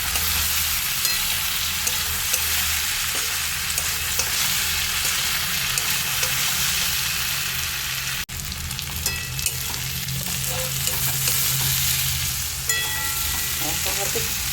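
Cornflour-coated soybean chunks sizzle steadily in hot oil, a loud continuous crackling hiss with occasional stirring clinks, briefly interrupted once before resuming.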